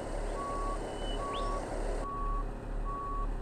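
Reversing beeps from a large truck in the video game Truck World sound as four evenly spaced electronic tones over a steady engine rumble, clear and close, with no speech.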